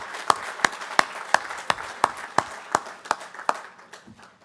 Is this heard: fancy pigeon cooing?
no